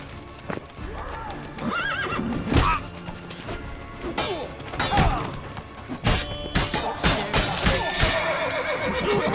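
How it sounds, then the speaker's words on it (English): A horse in The Witcher 3 video game whinnies loudly several times amid clopping hooves and thuds, with sharp, close-up bursts spread across the clip. "Whoa there, Roach"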